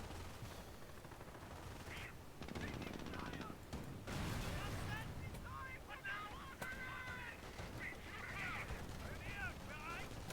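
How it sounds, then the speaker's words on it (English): Rapid machine gun bursts and scattered gunfire from a Company of Heroes battle, with defenders firing on infantry, crackling repeatedly over ten seconds under a dense wash of combat noise and talking voices. "I need infantry here taking that machine gun out. Defenders are firing on us to death."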